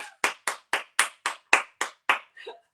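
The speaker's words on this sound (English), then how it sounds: "My kids are clapping back there or whatever." Nine sharp, evenly spaced hand claps from kids in the background, fairly faint and distant, ending with a softer, smeared final clap.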